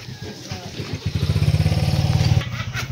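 A motorcycle engine sputters nearby, its pulsing rumble building and revving for a couple of seconds before easing back down.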